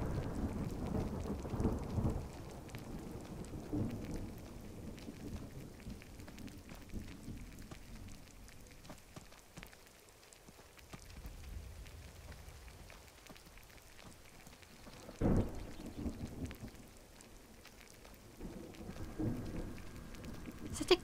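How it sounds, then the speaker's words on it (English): In a video game, light rain drizzles steadily with rolling thunder that swells and fades, a loud rumble at the start and another crack near the end, all without voices. "At least it's only drizzling with the thunder."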